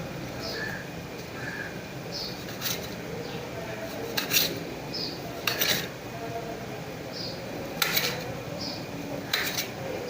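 Homemade wheat biscuit dough is cut into shapes on a kitchen surface, giving a handful of sharp metallic taps and clinks spaced a few seconds apart over a low background hum, with someone talking quietly throughout.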